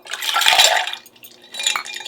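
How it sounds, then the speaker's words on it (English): Iced water is poured from a cup into a bowl, giving two short close splashing pours with a faint clink of ice. "I have my 1 cup of iced water, and I'm going to put that into my bowl."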